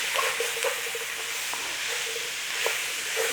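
Chunks of lean beef sizzle in hot oil in a pan while being stirred for a beef and bean chili, a steady close hiss with small scraping clicks from the stirring.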